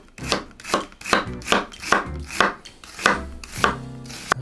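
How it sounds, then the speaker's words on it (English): A knife slicing onions thinly on a cutting board: about ten steady, evenly spaced chops, each one a crisp thud with a short rasp, close by and clear, with no voices. "we're gonna cut the onions pretty thin"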